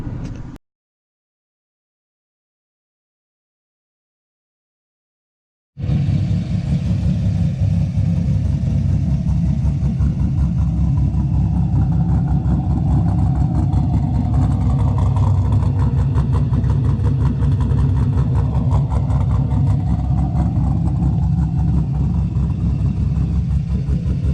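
An LS1 V8 engine with an upgraded cam and heads idles loud and close with a lumpy, choppy rumble, starting abruptly after a short silence and running steadily throughout.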